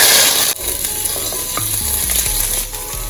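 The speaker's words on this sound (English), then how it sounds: "We have to have a little oil to saute with seasoning still, not a lot, right?" Sweet peppers and seasoning sauté in a little oil, giving a steady close sizzle with light stirring and a few scraping knocks of a utensil against the pot.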